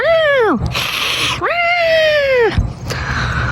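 A pet cat lets out two loud, drawn-out yowling screams, each sliding in pitch, broken by harsh hissing bursts, very close.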